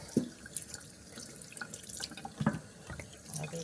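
Tap water runs into a kitchen sink as beef ribs are rinsed and washed, a steady close splashing flow with a few louder sloshes and drips.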